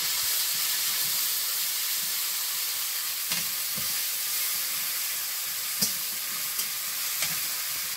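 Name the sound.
curry tempering frying in pan with onion and garlic paste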